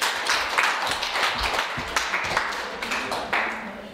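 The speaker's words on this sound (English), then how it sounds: "So let's give her a round of applause." An audience at an informal concert applauds in a burst of scattered hand claps that thins out slightly toward the end, with faint voices mixed in.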